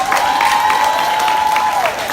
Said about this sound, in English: I want to give Bunji a big round of applause just for being here